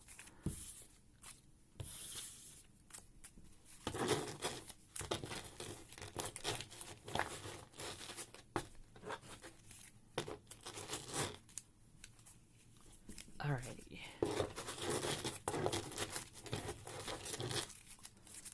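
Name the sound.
shuffling Pokemon trading cards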